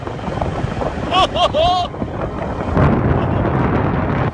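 A scooter ridden through traffic in Thailand produces a rushing wind buffet and a low engine rumble that run throughout, with a voice briefly heard near the start.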